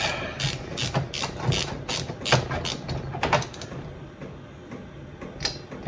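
A part on a Kawasaki H2 750 carburettor is tightened down with its replacement fibre washer, giving close, quick ratcheting clicks in bursts that taper off toward the end.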